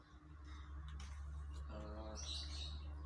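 A male lovebird gives quick, bright chirps over a low constant hum, faint and close, with a brief harmonic call in the middle.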